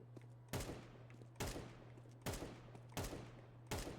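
Gunfire in the video game Counter-Strike: five loud, sharp shots or short bursts fire at roughly even intervals over a steady low background hum, with no talking.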